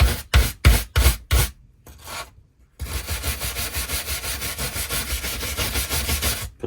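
Hand sanding of wood on a Snowpeak PP750 piece: a few sharp rasping strokes, a short pause, then a long run of rapid, even back-and-forth scrubbing, close and fairly loud.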